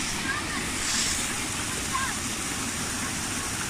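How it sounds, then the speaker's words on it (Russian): Petrovsky waterfalls pouring in a steady, loud broadband rush of falling water that fills the whole stretch without a break. "Петровские водопады."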